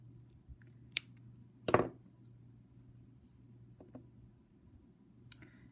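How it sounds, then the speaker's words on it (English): Wire cutters or small snips trimming the wire tail off a wire-wrapped loop in jewelry making, a few sharp, isolated clicks, with one louder snip near the middle, over quiet background hum. "And now I'm going to trim off the tail."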